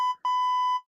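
Steady electronic censor bleep tones masking a racing driver's team radio at a Michigan International Speedway race: a short tone, a brief gap, then a longer sustained beep, loud and clean with no voice audible underneath.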